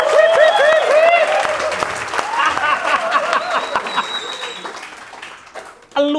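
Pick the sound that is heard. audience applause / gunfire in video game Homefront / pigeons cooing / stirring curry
audience applause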